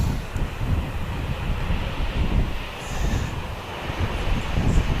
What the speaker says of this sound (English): This is our Nelson flight, Dash 8.